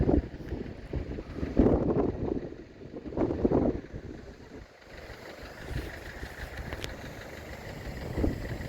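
Strong wind buffets a microphone on a windy coastline above steps leading down to a small beach, rising in gusts and easing, with a low steady rumble underneath.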